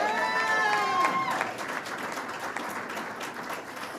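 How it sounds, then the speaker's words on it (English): Audience applause at a moderated conversation with Vice President Harris before a Hispanic congressional audience, a broad wash of clapping with a voice speaking over its opening second, then steady clapping that fades slightly toward the end. "I think that deserves a round of applause."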